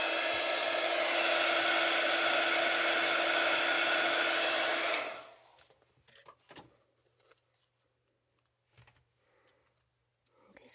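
A heat tool blows hot air onto a card, a loud steady rushing hiss for about five seconds that cuts off sharply, followed by faint handling clicks and taps.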